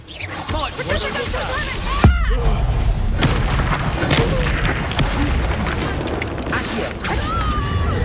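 A Confringo fire spell blasts in Hogwarts Legacy, a heavy boom landing sharply around the two-second mark amid ongoing combat rumble, with a few more thuds after it and a voice talking over the fight.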